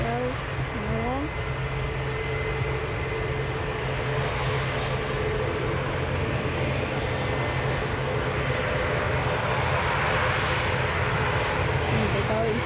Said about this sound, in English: Let's go to Oslo with a Boeing 737